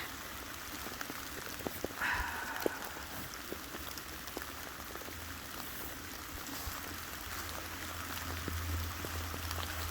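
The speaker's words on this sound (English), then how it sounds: "It's raining a ton." Heavy rain falls outdoors on a cold, miserable day as a dog waits to relieve herself, a steady broadband hiss of drops with a low rumble building in the background.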